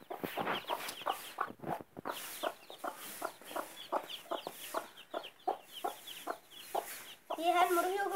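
Repeated clucking from a broody hen guarding her thirteen newly hatched chicks, steady close pulses with brief gaps, ending in a burst of shrill chick peeping.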